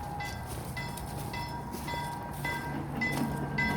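A train idling at a station platform, with a steady low rumble and mechanical hum, faint tonal whines and occasional soft clanks, close and continuous with no talking.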